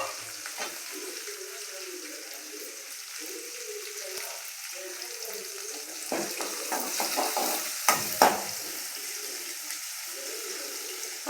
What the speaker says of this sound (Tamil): இது நல்லா ஃப்ரை பண்ணிக்கோங்க.